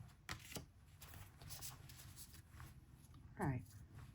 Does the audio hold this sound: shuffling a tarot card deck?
yes